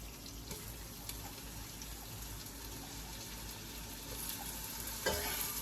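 Garlic sizzles steadily in a pan as salmon and shrimp are cooked, a continuous broad hiss with occasional soft scrapes of stirring and a slightly louder burst near the end, no voices.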